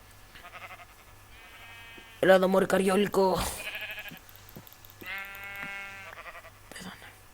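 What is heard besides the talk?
sheep bleating in the video game Minecraft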